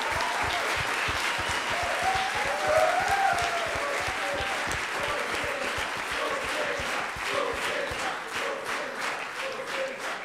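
A crowd applauds at the closing ceremony of the ICPC Latin America programming championship, sustained dense clapping from many hands, loud and steady for the whole stretch, with a faint voice briefly audible beneath.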